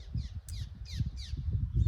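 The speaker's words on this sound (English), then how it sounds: "they make short little chirping noises" Short, high seabird chirps repeat in a quick irregular series, fairly faint, over a low rumbling background.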